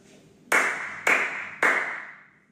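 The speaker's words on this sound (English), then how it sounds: "So 3 claps." Three sharp hand claps spaced about half a second apart, each crisp and close with a short decaying tail, marking sync for a motion capture recording.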